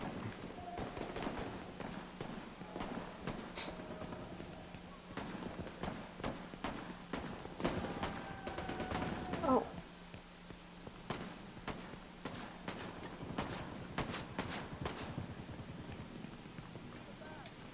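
Gunfire in the video game The Division 2: scattered sharp shots and short bursts, some distant, against background rumble and footsteps, with a voice talking at times.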